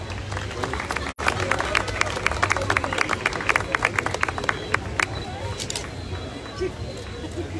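Applause from an audience at a tourism association awards ceremony in Comitán, Mexico: dense clapping with crowd babble runs steadily through, briefly cut by a dropout near the start.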